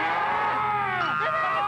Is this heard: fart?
no